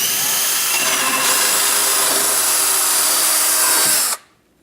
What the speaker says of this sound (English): So let's begin by drilling our 2-inch hole.